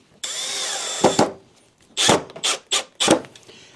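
A power drill drives a screw down through a wooden shim on a workpiece, a whining run of about a second followed by several short, loud bursts of drilling, close and with no voices.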